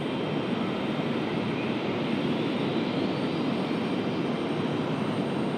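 An Icelandair jet rolls down the runway at Raleigh-Durham, its engines producing a loud, sustained broadband roar that stays steady and powerful throughout.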